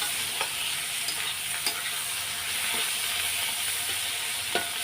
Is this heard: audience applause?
no